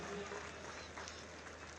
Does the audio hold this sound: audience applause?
yes